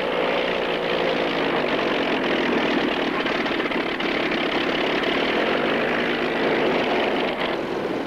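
Massed propeller aircraft engines at an unlimited-class air race, Mustangs, Bearcats, Sea Furies and Corsairs lined up in rows for the start, a steady, loud, continuous roar with no talk over it.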